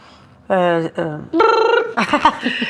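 An office telephone rings in a few short, tonal bursts, close and clear, filling a brief moment with a fairly steady repeating pattern.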